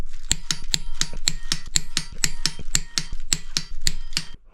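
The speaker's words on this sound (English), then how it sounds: "So we're going to torque these all up to 100" Wrench clicking while bolts are torqued during a twin-disk clutch install on a BMW M50 turbo engine, giving a rapid, even series of crisp metallic ticks up close with no speech.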